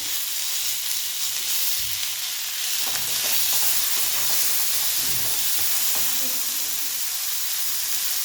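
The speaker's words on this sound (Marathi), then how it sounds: "यात टोमॅटो आणि मटार टाकून घेऊया" Tomatoes and peas frying with onion in a pan, a loud, steady sizzle and hiss with occasional stirring scrapes, close up and without speech.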